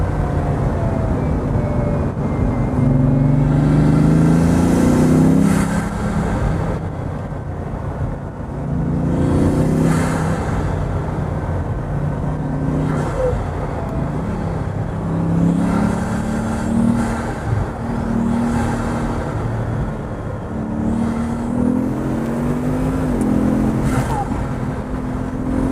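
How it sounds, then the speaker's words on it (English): A Bugatti Veyron Vitesse or Pagani Huayra supercar drives past, its engine droning steadily and swelling in repeated surges of revving, with a faint voice now and then underneath. "What a great car."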